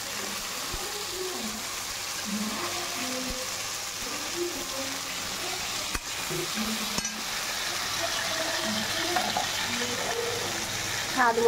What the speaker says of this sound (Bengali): এই এখন উচ্ছেটা দিয়ে দিচ্ছি কড়াইয়ের মধ্যে।